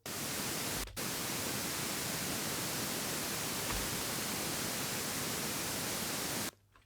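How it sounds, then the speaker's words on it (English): Loud, steady pink noise hisses continuously through a snare drum bottom microphone setup, with a brief cut near the start before stopping abruptly at the end. "we hear a short burst of the pink noise"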